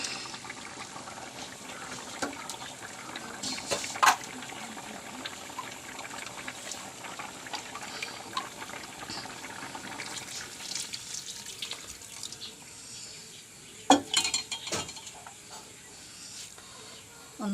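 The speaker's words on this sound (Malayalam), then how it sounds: "പിന്നെ അതിൽ ഒന്നാം പാൽ ഒഴിക്കാം." First-press coconut milk is poured into a simmering egg curry, a soft liquid pour and trickle over a steady background hiss, with a couple of sharper clinks from the pan partway through and near the end.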